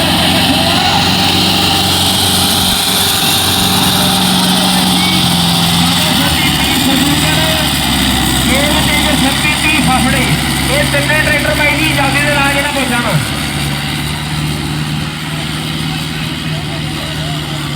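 A turbo Massey tractor drones steadily under load while hauling a trolley at a tractor pulling round, with the engine note holding loud and close as people talk over it throughout.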